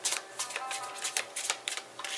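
Tarot cards riffle and slap in quick, close shuffles, a run of crisp papery bursts with short pauses between them and no talk.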